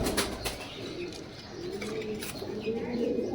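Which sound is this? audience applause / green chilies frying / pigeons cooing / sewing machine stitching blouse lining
pigeons cooing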